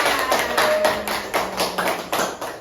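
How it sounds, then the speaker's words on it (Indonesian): A small group of children in a classroom claps together in a fairly rhythmic pattern of repeated bursts, close and clear with no talk over it. "tepuk tangan buat kita semua"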